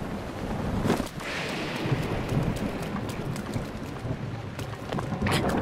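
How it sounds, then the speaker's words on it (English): Rain falls steadily in Zelda: Breath of the Wild by a tower, with low rumbles of thunder rolling underneath a constant patter, moderately quiet and without talk. "I'm not going to be able to climb this tower in the rain."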